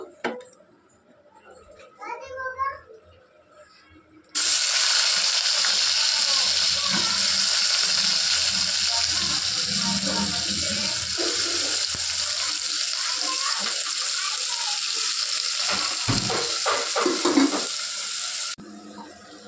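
Finely chopped onions sizzle steadily in a hot pan, a loud continuous frying hiss after a quieter start, with faint stirring and pan clatter mixed in.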